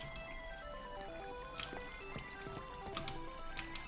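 Water flowing and dripping in Minecraft, soft trickles and liquid drips with light ticking splashes scattered over a steady low game ambience, close and fairly quiet.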